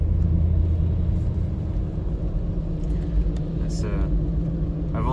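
A car engine at a steady, loud idle-to-throttle rumble during fuel injector testing, with a person talking over it throughout.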